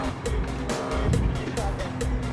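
BMW i8 upgraded to 614 horsepower in a racing video game, its engine droning steadily with repeated surges as gears change, accompanied by faint tire noise and someone talking over it.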